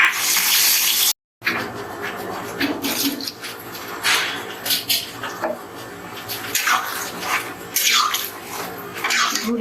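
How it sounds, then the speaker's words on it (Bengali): Water is poured into a cooking pot of goat tripe and liver curry, a close, splashing gush with a short break near the start, then continuing in uneven surges. "পানি দিচ্ছি"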